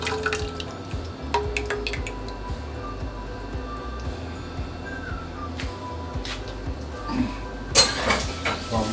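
Cooked Chinese broccoli draining in a kitchen, water dripping steadily with scattered clinks of dishes and utensils, close and moderately loud.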